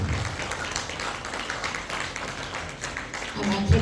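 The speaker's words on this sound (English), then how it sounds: "Give all of yourselves a round of applause, ladies and gentlemen." Audience applause fills the hall at the Clairwood Tamil Institute Thiruvalluvar Awards ceremony, a steady wash of clapping that swells again briefly at the close.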